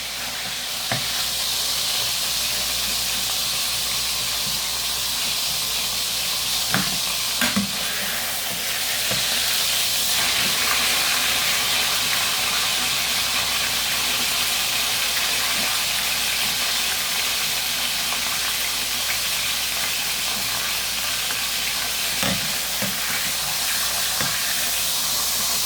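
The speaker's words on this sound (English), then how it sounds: "there's our first set of pork chops. Seared on both sides for 4 minutes per side" Pork chops sear in a hot pan with a steady, loud, dense sizzle that runs unbroken throughout, with occasional small pops and clinks over the hiss.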